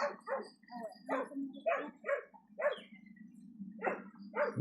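A pack of dogs barks outdoors in a rapid, overlapping volley of yips and barks, fairly distant and moderately quiet, over a low steady hum.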